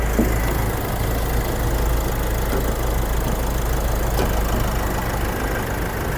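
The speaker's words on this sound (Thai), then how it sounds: "อันนี้ผมสตาร์ทรถไว้อยู่เนาะ" A 2019 Nissan Navara pickup's 2.5-litre DDI VGS Turbo diesel engine idles at close range, a constant low rumble with a faint knocking texture and no voices.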